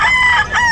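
A rooster crows loudly and close by at an outdoor pet market, one sustained harsh crow with a wavering pitch that fills the whole moment.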